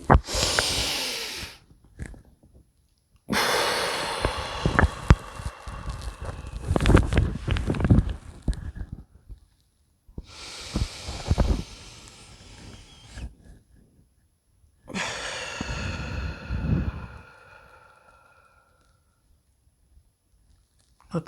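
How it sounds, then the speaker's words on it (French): Several slow, deep breaths taken during a guided relaxation breathing exercise, each a loud, drawn-out inhale or exhale separated by silent pauses, close to the microphone with no voices. "On va respirer."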